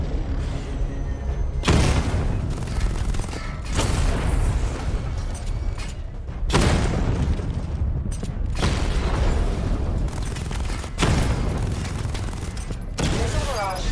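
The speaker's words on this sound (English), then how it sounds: "Destroy targets to charge up weapon energy and activate missile barrage." Missile barrage explosions in Batman: Arkham Knight on Nintendo Switch, a loud string of heavy booms and crackling blasts landing in bursts over sustained rumbling, with a synthetic voice speaking through parts of it.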